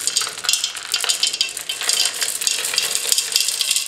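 Dark chocolate chips, 400 grams, stirred in a single pot as they melt over very low heat: a continuous soft scraping and swishing with a faint sizzle-like hiss, steady and close, with no voices.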